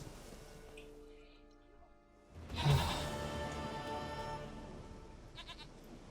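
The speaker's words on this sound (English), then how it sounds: "Goat of mine, dearest," A goat in The Witcher 3: Wild Hunt gives a single loud, wavering bleat after a quiet stretch, then trails off into lingering game ambience with faint chiming tones.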